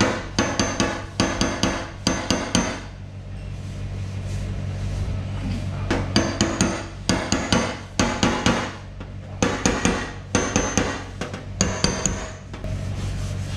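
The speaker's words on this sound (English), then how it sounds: "gonna take my hammer and my socket and just lightly tap down on it" A hammer lightly taps a socket to seat it below a surface, giving clusters of sharp, close metallic knocks in quick rhythmic bursts separated by short quiet gaps.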